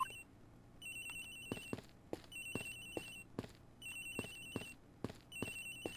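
A phone ringing in the video game Ace Attorney Investigations: Miles Edgeworth, a bright electronic trill repeating in regular bursts over several seconds, accompanied by sharp percussive game beats, fairly quiet with no talking.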